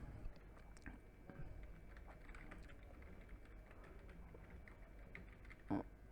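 Typing on a computer keyboard while entering text into a PowerPoint 2019 slide, heard as scattered quiet key clicks over a low background hum, with one louder tap near the end.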